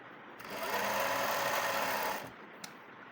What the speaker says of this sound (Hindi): इस तरह से फोल्ड करके यहाँ पर नीचे तक ऐसे ही सिलाई लगा लेंगे।